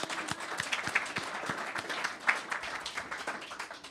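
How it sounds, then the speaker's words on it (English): Audience applause for academy staff at a policy event on the U.S. retirement system, a steady patter of claps that holds fairly even and moderately loud, with some distinct louder claps. "offer them a round of applause as well"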